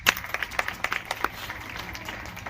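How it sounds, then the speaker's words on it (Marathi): A live audience at a school event claps in a short, uneven burst that peaks early and then thins into scattered claps before fading. The sound is moderately close. "तुम्ही टाळ्या वाजवल्यामुळे तुमच्याकडे आकर्षित झालोय."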